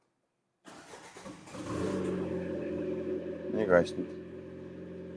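A Lada Largus engine cranks and starts, then settles into a steady idle, with a brief rev and someone speaking quietly over it.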